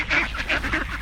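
Ducks in New Zealand being fed bread give a quick run of loud, close honking quacks, several overlapping calls in about a second.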